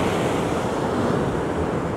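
Ocean waves wash onto the rocky shore of Gangavaram Beach in Visakhapatnam, a loud, constant roaring surf mixed with wind buffeting the microphone, with no voices.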